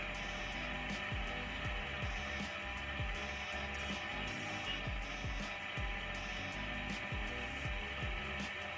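A stand mixer kneads bread dough at high speed, producing a steady motor whir with a regular thumping rhythm from the dough slapping around the bowl, continuous and fairly faint, without talk.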